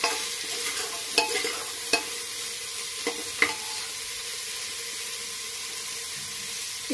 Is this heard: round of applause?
no